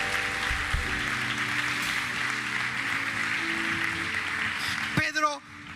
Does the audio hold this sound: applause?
yes